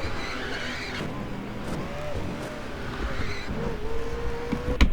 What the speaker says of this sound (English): Gets on the brakes, locks up